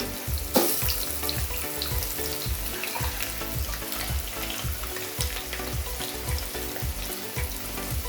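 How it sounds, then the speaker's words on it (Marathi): Potato pieces coated with turmeric and masala sizzle steadily in hot oil, a dense, even crackle close by with occasional stirring scrapes and no voices. "हा बटाटा पण फ्राय करून घ्यायचा त्याला पण हळद आणि मसाला लावायचा"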